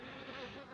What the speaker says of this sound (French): des abeilles qui sont en train d'agresser mon téléphone